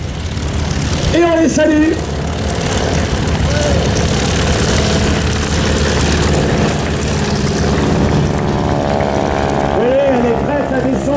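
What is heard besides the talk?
Breitling wingwalker propeller plane making a pass at an air show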